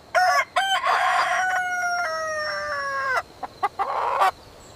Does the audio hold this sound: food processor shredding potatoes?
no